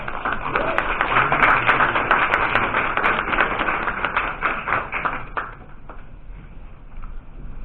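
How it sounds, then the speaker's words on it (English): A round of applause at a Merriam, Kansas city council meeting, a small room of people clapping steadily for several seconds before it thins out into scattered claps. "Let's give them a round of applause"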